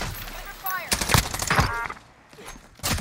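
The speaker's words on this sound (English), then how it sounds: "Where's that guy shooting from though?" Bursts of gunfire ring out in Call of Duty Warzone, several sharp, loud shots in quick clusters, with a player's voice talking between them.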